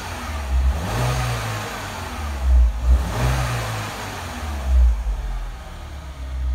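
A 2012 Mini Cooper S Convertible engine revs up twice in strong, close bursts over a steady idle, each rise swelling loudly before dropping back.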